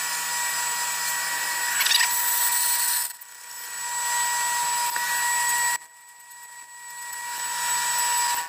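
A power drill with an 8mm bit whirs loudly in bursts, winding down and stopping twice, then spinning up again, close to the microphone.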